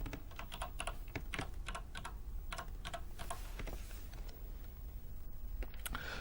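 Keys on a Quantel Editbox video editing keyboard are tapped in a quick, uneven run of close clicks while a name is entered, then a few last presses trail off.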